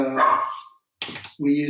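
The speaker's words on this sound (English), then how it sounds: "That's my dog, Einstein." A pet dog gives a couple of loud, close barks in an indoor home setting, with a person speaking around them.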